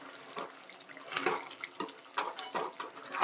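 Water is poured off a pot while cooking a traditional curry of dried shrimp, brinjal and jackfruit seeds, a faint, uneven splashing and trickling that comes in short bursts.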